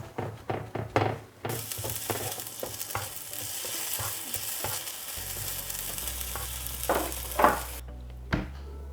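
Blewit mushrooms cooking in a pan, opening with several knocks and clatters of tossing before a bright, dense sizzle rises and holds, with a few louder stirs, no speech.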